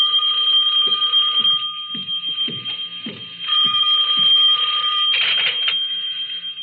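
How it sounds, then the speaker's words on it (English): An office telephone ringing in steady, shrill electronic trills that run continuously, with soft thuds like footsteps underneath. "my phone was ringing"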